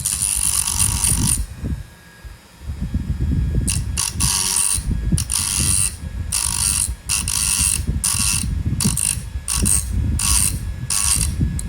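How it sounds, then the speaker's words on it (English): A Dremel rotary tool with a cutoff wheel grinds the bluing off a Marlin 795 rifle barrel, a loud steady high whine broken into repeated short passes with brief pauses between them. "I'm going to use my Dremel tool here with a cutoff wheel just to get rid of the bluing"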